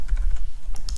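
Computer keyboard typing during a C++ programming tutorial, a quick run of close, crisp key clicks in an uneven rhythm with no voice over it.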